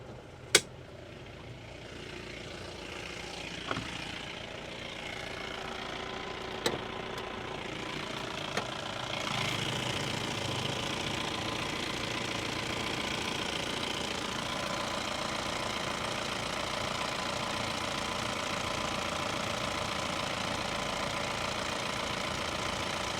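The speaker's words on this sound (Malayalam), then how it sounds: "എന്നാലും എൻജിൻ ഭാഗം ഒന്ന് ഞാൻ തുറന്ന് കാണിച്ചു തരാം" A 2007 Mahindra Bolero SLX DI diesel engine idles continuously at close range with the hood open, a low even rumble with a few sharp clicks and knocks early on.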